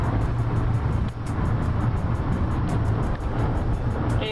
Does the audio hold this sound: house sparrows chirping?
no